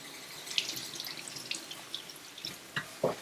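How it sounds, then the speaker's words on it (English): Cold water running from a tap and splashing into a sink, quiet and close, with irregular spatters and drips. "We give it a wash under cold running water"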